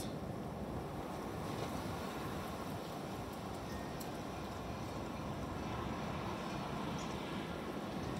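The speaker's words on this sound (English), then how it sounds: "Oh my goodness, that's so windy." Strong wind roars continuously and buffets loudly, a dense, rushing noise with no pauses.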